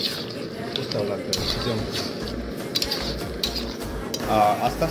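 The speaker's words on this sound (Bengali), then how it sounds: "আস্তে আস্তে মাংসটা এবার কষা চলছে।" Mutton is stir-fried slowly in a pan, with a spoon scraping and clinking against the metal in uneven strokes and a faint sizzle underneath, close by, while someone talks throughout.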